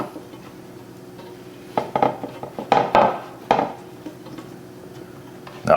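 Potatoes are set into a pan one after another, giving a handful of close, light knocks and clinks against the metal surface, with quiet between placements and no talk.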